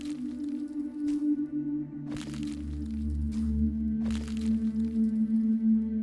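Breaking a dried ghast block in Minecraft: three short crunchy cracks, evenly spaced, over a low droning hum and eerie ambient tones.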